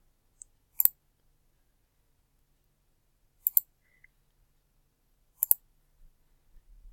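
A computer mouse clicks three times while AutoCAD is in use, each a crisp, close double click spaced a few seconds apart in near silence.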